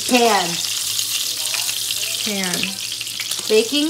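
Steady frying sizzle from a hot pan of battered squash, with a voice speaking briefly over it in short bursts.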